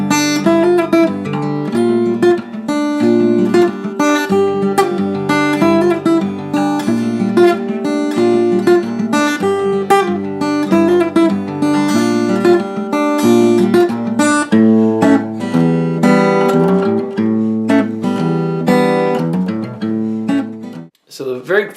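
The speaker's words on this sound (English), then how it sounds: "The second part of the song, or chorus, is a finger-picking pattern that I like to play like this." Acoustic guitar finger-picking the chorus pattern of a song, a steady, busy arpeggiated figure of ringing notes played close and fairly loud for about twenty seconds with no talking.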